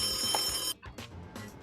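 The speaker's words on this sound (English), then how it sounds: "A rotary phone?" A rotary telephone's bell rings loudly for just under a second, a steady metallic trill that cuts off abruptly, followed by a low background hum.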